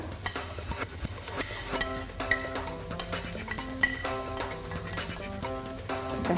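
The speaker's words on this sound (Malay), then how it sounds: "Baru kita tumiskan bahan. Kita tumiskan bawang besar." Large onions sautéing in hot oil for a pineapple-sauce sea bass dish, a busy sizzle with repeated scraping stirs and light metallic clinks of the spatula against the pan.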